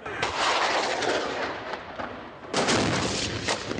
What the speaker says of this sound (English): a loyalist fighter fleeing a rooftop during heavy incoming fire